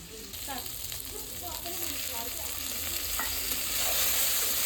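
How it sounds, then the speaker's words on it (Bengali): Eggplant being stir-fried in a pan for a spicy catfish curry, with a continuous frying sizzle and soft stirring scrapes, while a voice talks faintly over the cooking throughout. "আর ওদিকে বেগুনটা কষিয়ে নিচ্ছি।"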